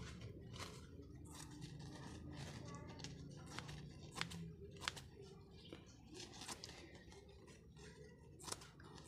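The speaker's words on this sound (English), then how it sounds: "Let me just cut the edges." Scissors snipping the edges of a face mask used as a battery separator, a series of sharp close cuts and crinkly scraping at an uneven pace, with faint background noise.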